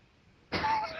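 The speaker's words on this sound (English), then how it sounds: "Still got that weird mystery cough." A single sharp cough from someone ill with a lingering mystery cough, close and loud, bursting out of near silence and trailing off briefly.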